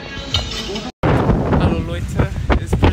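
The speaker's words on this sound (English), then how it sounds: "it's pretty windy outside" Strong gusty wind at Newport Beach Pier buffets the microphone with a loud, continuous broadband roar. A brief dropout interrupts it, and faint voices blend into the rush.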